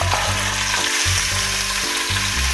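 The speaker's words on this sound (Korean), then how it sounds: "제육볶음 하도록 하겠습니다 프라이팬에 우선 밑기름을 조금 넣어줄게요" Oil sizzles steadily in a frying pan as pork is stir-fried for spicy Korean jeyuk-bokkeum, a close, continuous crackle with brief pulsing dips, no talking.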